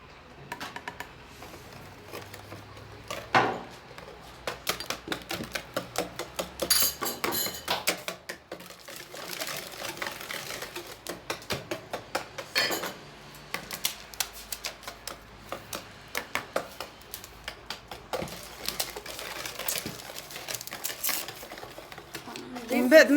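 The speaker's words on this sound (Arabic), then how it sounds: "من بعد ما يتخلطوا المكونات مزيان بحال هكا كنخلطوا" Semolina cookie dough ingredients being mixed by hand in a bowl, irregular soft taps and clicks in uneven bursts, quiet and close, with occasional talk.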